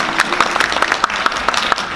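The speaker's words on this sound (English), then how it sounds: "You deserve applause." An audience at a community evening event in Antwerp claps in a brief burst of applause, with sharp, closely spaced, fairly rhythmic hand claps heard up close.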